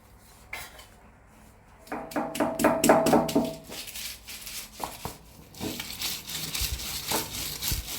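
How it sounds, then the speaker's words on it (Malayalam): Shallots, cumin and chili powder are crushed together with curry leaves, starting with a few soft knocks, then a burst of rapid rhythmic pounding, and ending in rougher scraping and grinding, close and fairly quiet. "ഇനി ചെറിയ ഉള്ളിയും ജീരകവും മുളക് പൊടിയും കൂടെ ചതച്ച് കറിവേപ്പിലയും ചേർത്ത് ചതച്ച് നമുക്ക് എടുക്കാം"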